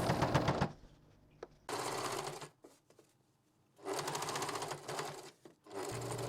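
Sewing machine stitching the seam of a sun dress, running in three loud bursts with quiet pauses and faint handling noises between them.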